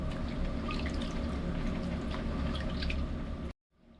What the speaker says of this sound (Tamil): பாருங்க, புளியை நல்லா கரைச்சிட்டேன்.